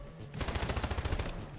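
Rapid automatic gunfire from a first-person shooter game on Nintendo Switch, a quick burst of evenly spaced shots lasting about a second, fairly quiet and with no talking.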